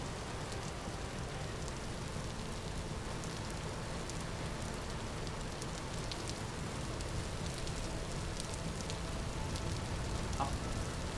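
Steady rain falls in the video game Vintage Story, giving an even, soft patter of drops on surfaces that never lets up. No voices are heard over it.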